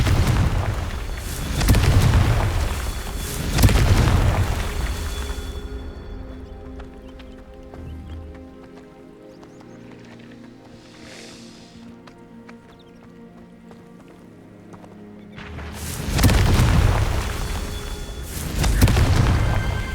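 Confringo spell explosions in the Hogwarts Legacy video game, heavy booming blasts in two loud clusters at the start and end, separated by quieter game music and ambience.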